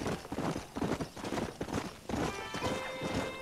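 Horse hooves clip-clop steadily in the Red Dead Redemption video game, a close, busy rhythm of hoofbeats with a brief whinny-like sound and game ambience, and no talking.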